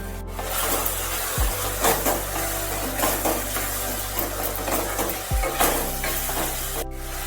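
Diced potatoes fry and sizzle steadily in a pan of oil for fish-oil chorchori while a spatula stirs and scrapes them, with a few sharp clanks against the pan, close and continuous with no talking.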